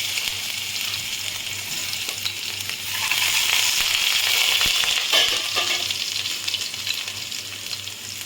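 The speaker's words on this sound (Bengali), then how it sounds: "কড়াইতে আমি তেল দিয়েছি, দিয়ে এই ফোড়নটা আমি দিয়ে দিলাম। আর আমি এর মধ্যে দিয়ে দেবো" Garlic and whole spices sizzle in hot oil in a kadai, a steady crackling hiss that swells louder midway and then settles, close by with no talking.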